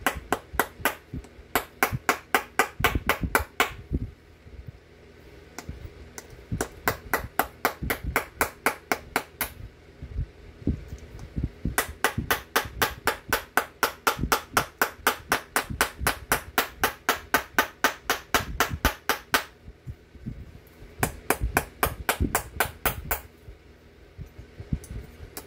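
Copper being hammered into a primitive pressure flaker rings out in fast, regular bursts of sharp metallic strikes, loud and close, separated by short pauses.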